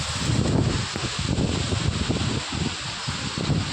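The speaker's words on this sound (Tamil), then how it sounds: "இன்னைக்கு சரியான காற்று அடிக்குது." Strong wind blows across a farm with mango trees, a steady broad rushing noise with faint rustling and low buffeting, fairly quiet and unbroken throughout.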